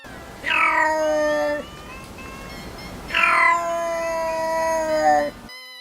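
Two long, loud, tonal calls from a black-footed cat, each drawn out for over a second with a short pause between, close and clear.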